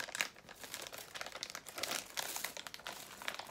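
Plastic packaging around individually wrapped marshmallows is torn and crinkled open, close and fairly quiet, with irregular crackling bursts throughout and no talking.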